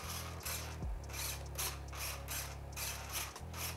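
An upgraded titanium-gear servo on an AeroScout S 1.1 RC plane whirs and ratchets mechanically up close, with a steady buzzing gear drone broken by a few abrupt stops and restarts.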